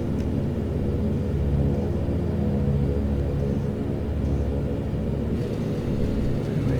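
Touchdown rumble of a Saab 340 turboprop in the X-Plane 11 flight simulator, a steady loud low drone and rolling rumble lasting throughout, with a slight rise in noise near the end.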